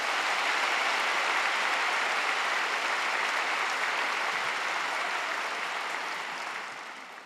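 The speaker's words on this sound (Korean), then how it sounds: "박수로 모시겠습니다." Sustained, dense applause fills a church sanctuary as the congregation welcomes a visiting pastor at a Pentecost prayer service; the clapping stays full and even, then tapers off at the end.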